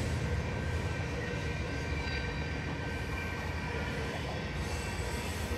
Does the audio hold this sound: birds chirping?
no